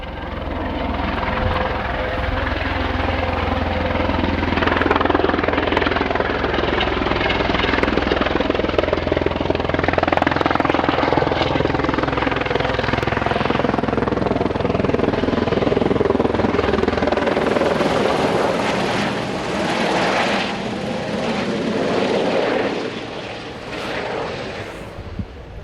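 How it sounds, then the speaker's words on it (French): Helicopter flying during a climate station installation near the summit of Piton des Neiges on Réunion, a loud continuous rotor and engine roar that holds steady for most of the clip and then shifts in tone toward the end, no talk. "nécessitant le recours à l'hélicoptère"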